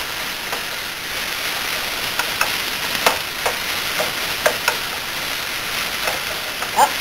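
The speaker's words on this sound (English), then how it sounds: "the pan is hot enough to be able to toss it and receive results" Pico de gallo sizzles steadily in a hot pan, a dense crackling hiss with small scraping clicks and soft thumps as it is stirred and tossed, close and continuous with no talk.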